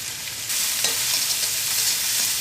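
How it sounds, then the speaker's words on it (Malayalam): Sliced onion hits hot oil in a pan for Kerala egg roast, a bright continuous sizzle that jumps louder as it lands, with a faint stir scraping through the crackle and no talking. "നമുക്ക് ചൂടായ എണ്ണയിലേക്ക് നമുക്ക് ആദ്യം തന്നെ നമുക്ക് സവാള ഇട്ടിട്ടൊന്ന് മൂപ്പിക്കാം"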